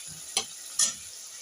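Two fat garlic cloves frying in oil, a soft sizzle punctuated by two sharp spatula scrapes in quick succession.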